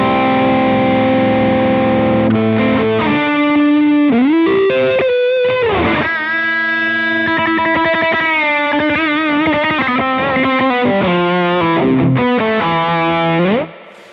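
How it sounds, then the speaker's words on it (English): Electric guitar runs through an Eventide H9 Sculpt effects pedal set to heavy distortion, loud sustained chords and bending notes ringing continuously before a quick cutoff. "It's kind of a big distortion thing."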